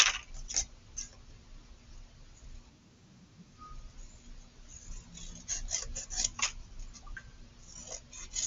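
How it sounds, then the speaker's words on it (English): Scissors cut out a paper castle shape for a pop-out landscape craft, giving close, quiet, intermittent snips and rustling paper in short clusters with brief pauses between them. "I'm going to go back and cut from a different direction."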